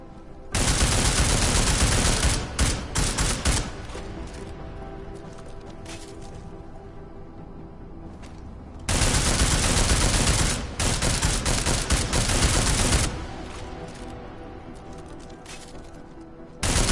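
Gunfire in Deus Ex: Mankind Divided fired at an armored target, two long, loud sustained automatic bursts lasting several seconds each, separated by quieter ambient stretches.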